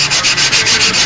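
Sticky-back sandpaper rubs along a balsa model aircraft wing rib by rib, fast rhythmic back-and-forth strokes, loud and close, with no voices.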